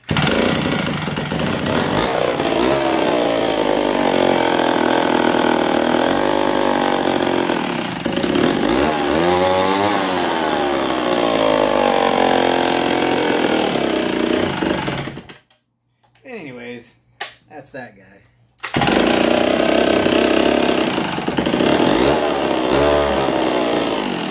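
A vintage chainsaw with a fussy choke runs loud and steady, its engine note rising and falling with throttle, then cuts out briefly with a few sputters before roaring back to full running.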